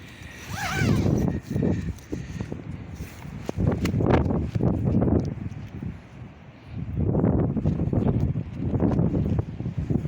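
Gusty wind buffets a Tarptent Moment DW tent pitched outdoors, surging in loud broadband rushes and flapping bursts that rise and fall over several seconds, with no voices.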